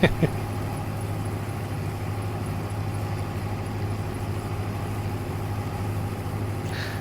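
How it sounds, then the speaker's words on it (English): Combine harvester engine in Farming Simulator 22, a steady low idling drone with a constant hum, running evenly and close throughout. "I do love this harvester, it's brilliant."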